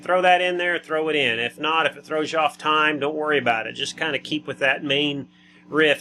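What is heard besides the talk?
None of the usual background noises is heard.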